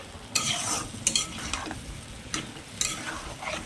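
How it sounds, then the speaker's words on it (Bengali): Potato and eggplant are stirred with spices in a frying pan, with scraping strokes of the spoon over a soft sizzle of oil, close and fairly quiet. "মশলাটা দিয়ে দেওয়ার পর একটু ভালো করে সমস্ত কিছু সবজির সঙ্গে মিক্সড করে নিচ্ছি"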